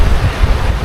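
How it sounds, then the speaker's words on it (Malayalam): Sea waves wash steadily onto a Koh Phangan beach in Thailand while strong wind buffets the microphone, giving a loud, continuous rumbling roar with no voices. "ഈ കാറ്റും കൊണ്ടിട്ട് ഈ കടലും നോക്കി"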